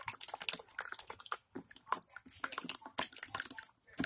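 Watery slime squelches and drips with irregular wet clicks and pops, soft and close, in short bursts separated by brief pauses.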